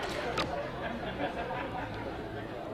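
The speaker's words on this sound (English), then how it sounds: "You can hear it in the crowd as we get a nice wave in the background too" Crowd at a women's international team darts match between USA and Germany, a steady swell of cheering and chatter rising through the venue during a wave, with voices talking over it.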